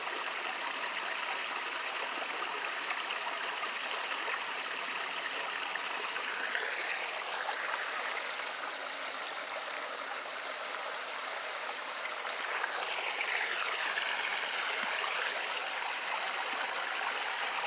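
A stream flows steadily outdoors on a nature walk, a continuous broadband rush and gurgle of running water, close and even throughout with brief swells of splashing.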